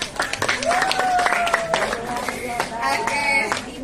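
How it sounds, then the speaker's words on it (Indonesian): An audience at a business product presentation claps, a loose, uneven patter of hands near the microphone mixed with a voice speaking over it throughout. "terima kasih, tepuk tangan dulu Pak."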